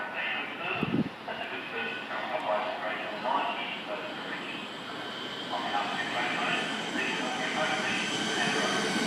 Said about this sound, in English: We've got another Siemens arriving